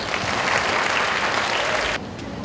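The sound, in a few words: audience applause for school musical performers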